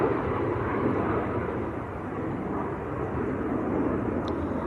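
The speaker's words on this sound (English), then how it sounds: "It's Tui to Banjul that's just taken off." A Tui airliner climbing away from Manchester Airport, a broad, sustained jet roar heard from a distance, holding fairly steady with a slight dip and swell, with no voices.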